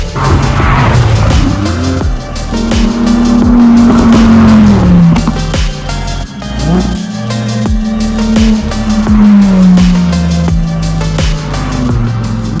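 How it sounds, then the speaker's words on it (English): Supercars roar past on a road, loud engines rising and falling in pitch as they accelerate and go by one after another, with a brief dip between passes. "It's not every day you see millions of dollars worth of machinery speeding past you."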